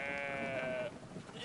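A sheep in the video game Brothers gives a single drawn-out bleat, faint and wavering, over low background noise, then fades out.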